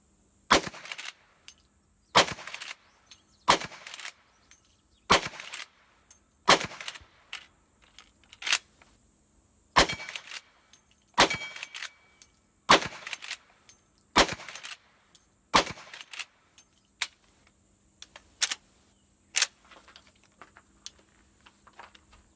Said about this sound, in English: Let's go ahead and put 10 more rounds on the steel plate.